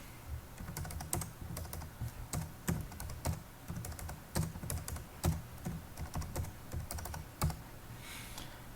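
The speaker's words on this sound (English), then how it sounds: "So I'm just going to quickly type in 10 values." Rapid, uneven keystrokes on a computer keyboard as ten array values are entered for a programming exercise, close and fairly quiet with brief pauses between bursts and no talking.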